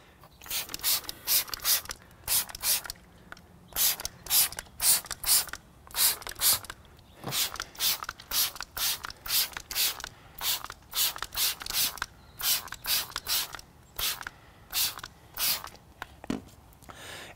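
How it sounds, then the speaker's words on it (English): A trigger spray bottle of wheel cleaner squirts onto a car's rear wheel in a long series of quick, sharp hissing bursts, loud and close, with short pauses between groups of pumps. "I'm going to spray it with wheel cleaner."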